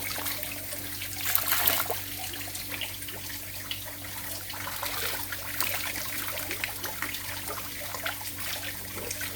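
Clear water trickling and flowing steadily in an irrigated turmeric field during harvest, a continuous close babble with small splashes and no voices.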